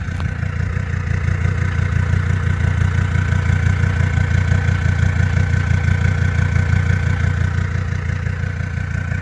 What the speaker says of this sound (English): The idle is way more aggressive now.